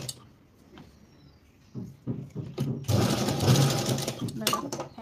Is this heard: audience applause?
no